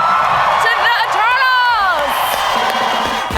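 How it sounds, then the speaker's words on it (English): A studio crowd breaks into loud cheering, whoops and shouting that fill the whole stretch, close and energetic. "Big round of applause to the Eternals!"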